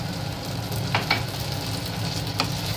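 Chicken gravy thickened with cornflour and flour simmers in a pan, a low bubbling sizzle with a few brief scraping stirs of a spoon, no voices.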